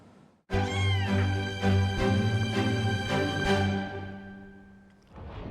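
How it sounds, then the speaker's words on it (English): A stressed, over-grooming cat lets out one long, loud, drawn-out meow close by, wavering in pitch for several seconds before trailing off, followed by the start of another cry. "Inspector Claire Dew has just picked up Suti, a cat that's been over-grooming, possibly due to stress"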